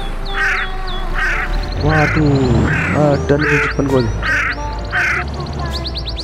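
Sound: crows cawing in the video game Euro Truck Simulator 2

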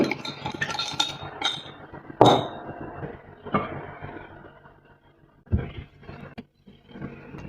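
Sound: stirring separated hot-process herbal soap mixture

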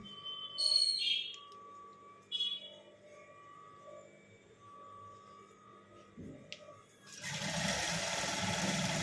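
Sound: sewing machine stitching a fall onto a sari

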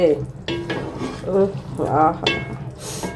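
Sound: stirring meat in cooking pan

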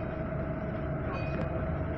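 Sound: train passing, wooden-bodied railcar

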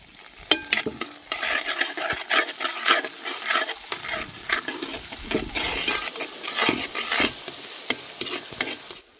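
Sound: onions frying in a pan

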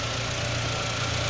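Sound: used three-row family car engine idling

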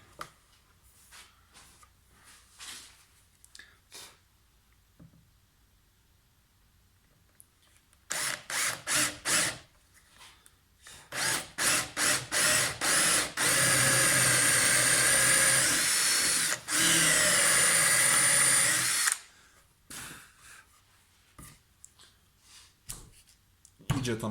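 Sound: power drill boring holes in kitchen cabinet with CMT bit

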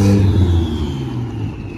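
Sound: Honda Civic engine revving at full throttle

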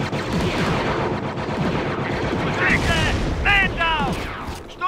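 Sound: rifle fire in the video game Star Wars Frontlines mod

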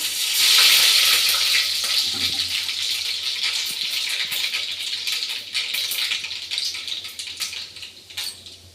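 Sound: mustard seeds added to hot oil

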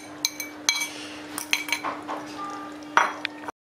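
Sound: eggs being added to potatoes in a cocotte pot

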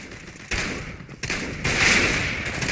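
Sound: gunfire in CSGO Battle Royale video game

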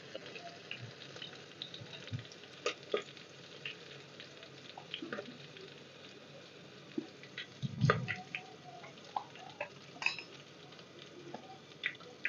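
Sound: green chillies frying in a pan

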